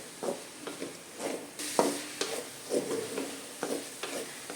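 Onions softening in a pan while a spoon stirs them, giving quiet close scrapes and soft pushes at an even, unhurried rhythm over a faint, gentle sizzle.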